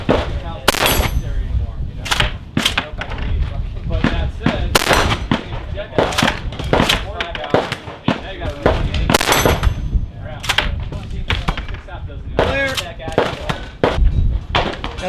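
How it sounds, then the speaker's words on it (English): A KSG 12-gauge shotgun firing slugs at an outdoor firearms festival, loud sharp blasts going off repeatedly at irregular intervals amid other nearby gunfire, with people talking in between. "Now the KSG was a very fine shooting shotgun. I'll tell you what, those slugs, they kick a little bit"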